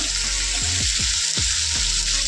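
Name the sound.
vegetables frying in oil with salt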